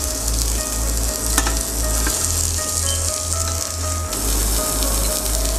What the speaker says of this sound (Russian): Переворачиваем стейки. Такая ароматная, аппетитная корочка появилась.